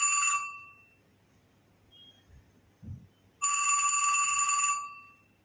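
A telephone rings twice in bright electronic trilling bursts, separated by a quiet pause with a few faint thumps.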